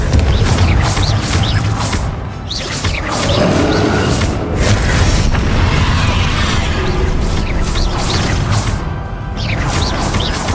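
In Hogwarts Legacy, repeated Confringo blasting spells detonate as loud, close booms and crashing impacts, one after another with brief dips between the explosions.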